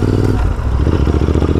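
Royal Enfield Interceptor 650 motorcycle running on a road ride, a loud, steady engine drone close by with some rattling clatter, no talk over it.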